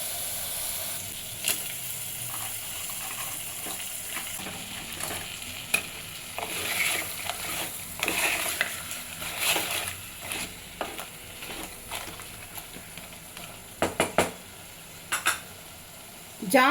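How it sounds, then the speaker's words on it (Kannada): Crab goes into a frying pan of sizzling masala for a crab gasi curry and is stirred. A steady close sizzle runs under irregular scraping clacks of the spoon against the pan. "ಇದಕ್ಕೆ ನಾನು ಇವಾಗ ಕ್ರ್ಯಾಬ್ ಆ್ಯಡ್ ಮಾಡ್ತಾ ಇದ್ದೀನಿ."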